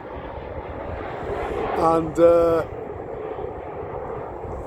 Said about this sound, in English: planes are coming into land on a regular basis here